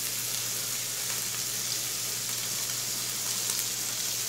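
A T-bone steak sizzles steadily in a pan with butter, a dense, even crackling hiss that holds at a constant level throughout with no talk over it.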